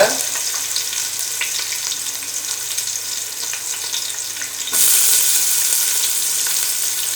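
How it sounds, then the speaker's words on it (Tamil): Chopped onions sauté in a pan with a steady, close hiss that grows a little louder partway through, with no stirring sounds standing out. "வெங்காயத்தை நல்லா பொன்னிறம் வர வரைக்கும் நம்ம வதக்கிக்கலாம்"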